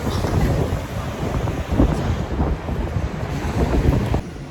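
Strong wind buffets the microphone in a continuous low roar, gusting unevenly for several seconds with no voices, on an open-top sightseeing bus descending streets toward a port in Malta.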